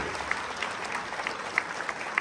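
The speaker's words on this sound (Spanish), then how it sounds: "fuerte el aplauso a la palabra del Señor." Congregation applause during a Catholic healing and deliverance sermon: a steady, moderately loud patter of many hands clapping together, with a few sharper claps rising above the wash.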